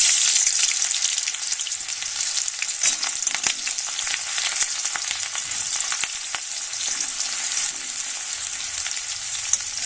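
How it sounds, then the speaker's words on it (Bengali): Dried red chilies and chopped onion fry in hot oil in a pan, giving a steady, close, loud sizzle with scattered crackles and occasional stirring scrapes throughout, no voices. "শুকনো লঙ্কাটা নেড়ে চেড়ে পেঁয়াজ কুচি দেব কিছুটা পরিমাণে।"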